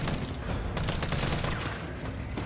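Rapid gunfire in the Resident Evil 3 video game, a dense continuous stream of loud shots with a few sharper cracks standing out.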